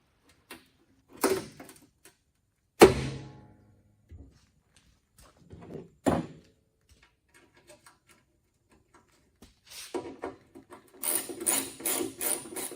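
A small screw is refitted on a 23-year-old snow blower attachment, producing sparse close clicks and ratcheting ticks with quiet gaps between them, then a cluster of faster light clicks near the end.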